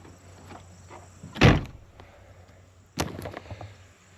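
A van door at a campsite is opened and shut, giving two sharp, loud clunks about a second and a half apart over quiet outdoor background, with no talking.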